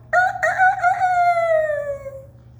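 A loud, close rooster crow, a couple of short opening notes followed by a long drawn-out call that slowly fades, over a low background hum.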